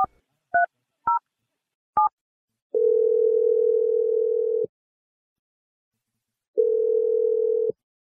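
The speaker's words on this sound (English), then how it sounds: "Dial the number right now." A phone call to a roommate opens with four quick touch-tone dialing beeps, followed by two long, steady ringback tones separated by a gap of silence, clear and close.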